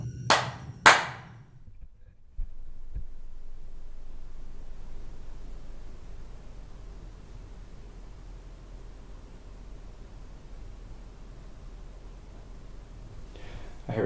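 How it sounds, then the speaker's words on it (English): Two sharp hand claps ring out close together near the start of a clap and seek game in an old hospital, followed by a faint tap and then long quiet room hiss, with a small rustle at the end. "when you hear the clap, I need you to clap back"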